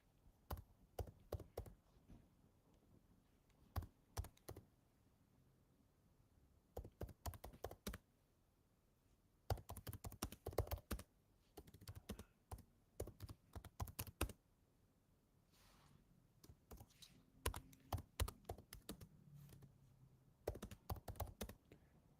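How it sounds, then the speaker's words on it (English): Typing on a computer keyboard in bursts of rapid key taps separated by short pauses, close and fairly quiet, with no voices. "I'm typing here the poem"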